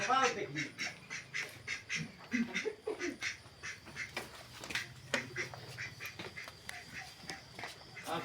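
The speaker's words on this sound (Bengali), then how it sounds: "এই যে হাঁস আছে।" Ducks in a village yard quack repeatedly in quick, uneven bursts, fairly close, while a person talks over them.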